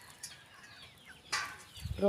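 Pigeons in a backyard loft give soft coos and flutters amid background rustle, faint and intermittent, with a louder burst of bird sound near the end.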